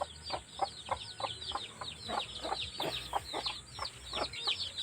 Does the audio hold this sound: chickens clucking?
yes